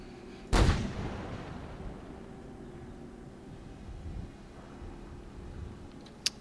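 A tank gun in a video game fires a single high-explosive anti-tank shell, one sharp heavy boom followed by a rumbling decay over steady background noise.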